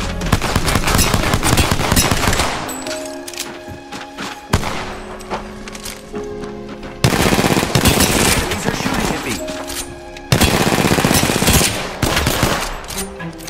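Loud, rapid automatic gunfire in the Apex Legends video game rattles in long sustained bursts, broken by short pauses and sudden restarts, with layered impacts and game effects throughout.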